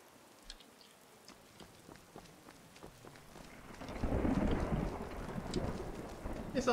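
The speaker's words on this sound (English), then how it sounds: "It's always raining, huh?" Rain patters with scattered drips in the video game The Elder Scrolls V: Skyrim, then a deep rumble of thunder rolls in and swells midway, lingering under the steady downpour.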